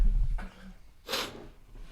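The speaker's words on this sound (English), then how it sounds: "I had to sneeze." A single person lets out one abrupt, close sneeze after a brief snuffly breath, with a quiet room around it.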